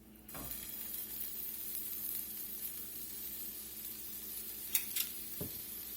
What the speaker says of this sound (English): And I'm going to drop them in this skillet